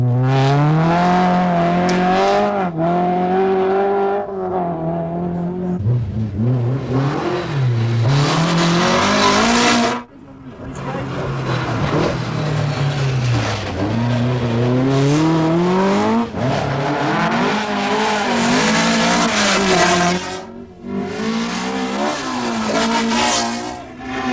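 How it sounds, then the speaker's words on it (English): Rally cars, including a Ford Escort and an Opel, race a stage of the 1981 Donegal International Rally with loud, close engine roars that rise and fall through gear changes, with occasional tyre squeal and no talking. "John Lyons in the Escort has taken a minute off the hard-pressed Opel of McRae."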